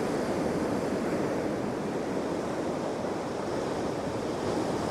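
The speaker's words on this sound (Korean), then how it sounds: "파도가 왜 이렇게 커?" Heavy surf roars steadily at Gwaneumdo on Ulleungdo island, South Korea, a broad wash of large crashing waves mixed with wind buffeting the microphone.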